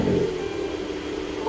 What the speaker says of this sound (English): You can actually start the car if you want.